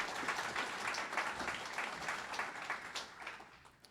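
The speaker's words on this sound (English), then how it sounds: "So if you could give them a round of applause as well." Audience at the Lake George Association Lake Protector Summit applauding, a moderately quiet, even patter of many hands that fades toward the end.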